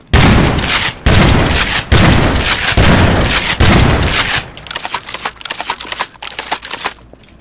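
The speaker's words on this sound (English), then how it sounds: "Here's the shotgun." A shotgun in a Garry's Mod realism mod fires a rapid series of loud, close blasts, each cut off sharply, then weaker, more scattered shots and impacts follow.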